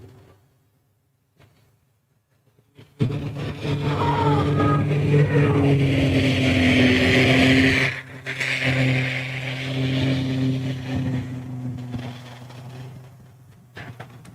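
A mud racing vehicle at a mud race in Orangeburg, South Carolina pulls away. A loud engine roar bursts in after near silence and holds strong, rising and falling in pitch as it drives off.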